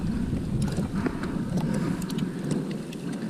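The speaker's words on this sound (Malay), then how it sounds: "Angin padu dah sampai." Strong wind gusts over open sea along the Malaysian coast during kayak fishing as a storm approaches, roaring and buffeting a nearby microphone with a continuous rushing noise and faint knocks.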